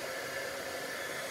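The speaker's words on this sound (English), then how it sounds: "Let's take a little bit of heat gun." A heat gun blows steadily to melt clear embossing powder on a paper card, a continuous, close, even whooshing hiss with no talk.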